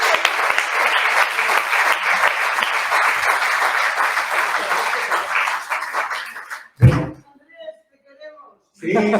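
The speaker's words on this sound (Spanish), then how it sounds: "Un aplauso entre nosotros también." Audience at a literary association gala breaks into sustained, dense applause that fades after several seconds, followed by a few thuds and a short burst of noise at the end.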